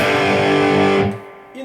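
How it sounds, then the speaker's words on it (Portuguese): Electric guitar through an amplifier's Crunch channel with the amp's own reverb and no pedals: a sustained, mildly overdriven chord rings loud for about a second, then decays into a reverb tail before a brief new attack. "fica só o canal Crunch do amplificador e o reverb do próprio amplificador."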